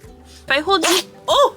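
A single sharp sneeze bursts out mid-clip, loud and close, with a person speaking briefly before and after it.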